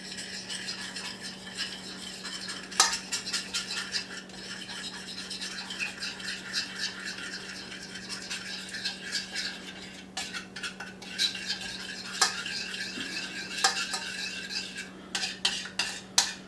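Cornbread batter being stirred in a bowl for barbecue cornbread, a steady scraping and clinking of a utensil against the bowl with a few sharper knocks, close and fairly quiet over a low hum.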